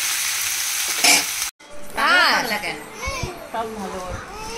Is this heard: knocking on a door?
no